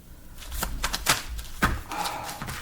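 Tarot cards being shuffled by hand, a few quick riffling bursts and sharp slaps of the deck, close and fairly loud, with brief pauses between.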